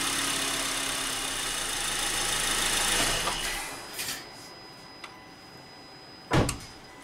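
A 2008-2012 Honda Accord with a 2.4L four-cylinder engine idles with a steady, close hum. The hum then drops to a quieter level, broken by a few short clunks.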